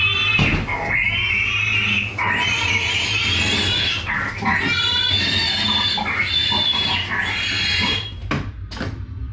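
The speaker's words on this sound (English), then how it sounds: "so we got the pig up and running. Show y'all how it goes." A mechanical pig prop for a haunted attraction grunts and oinks repeatedly, mixed with clunks and clatter nearby.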